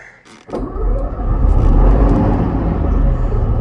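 A Chieftain tank engine with an electrical fault starts up in neutral, a short click and whir and then a loud, close, deep rumbling roar that holds steady and strong.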